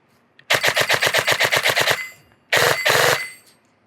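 An EMG Daniel Defense airsoft AEG rifle with a 16 TPA ferrite motor fires on full auto: a rapid, loud burst of about fifteen evenly spaced shots lasting roughly a second and a half, then a pause and a second shorter burst, with no voices.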